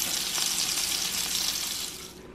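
Cooked sausage for a seafood boil is drained, giving a steady, close hiss of pouring liquid and grease that runs for about two seconds before tapering off.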